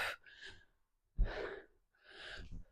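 Heavy breathing during a 5x5 full-body workout: three loud, close gasping breaths separated by short pauses, raw and effortful, with no speech.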